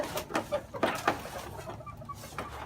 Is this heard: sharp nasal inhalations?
no